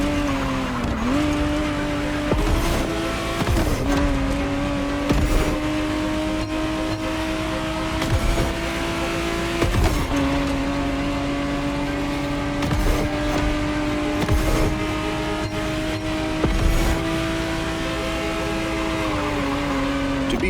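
A 1991 Ferrari Testarossa 512 TR in The Crew Motorfest holds a steady, loud engine drone, with gear changes that drop and climb the pitch every few seconds and faint tire noise, and no voices.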